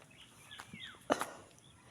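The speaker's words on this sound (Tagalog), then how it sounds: "Huni lang ng ibon." Birds chirp faintly near a farm plot outdoors, with a few short calls and a rising-falling whistle, plus a brief louder rustle against quiet background noise.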